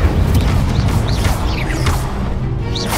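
A fiery Incendio spell blast in the Hogwarts Legacy video game roars as a loud, continuous whooshing burst, with whistling magical zips streaking over the rumble throughout.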